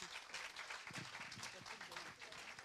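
Congregation in a church applauding continuously, a dense, steady wash of clapping throughout, with voices mixed into the crowd noise.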